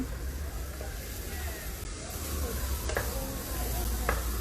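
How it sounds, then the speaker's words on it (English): Spices being stirred and blended together in a home kitchen, a soft continuous scraping and swishing with a few light taps of a utensil against the bowl, close and steady. "So I'm just going to mix the spices, blend those up a little bit."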